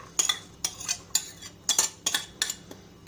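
Onion in a pan for rice with chicken and peppers is stirred, producing about six quick, close clinks and scrapes of a utensil against the pan in an uneven rhythm, with no talk.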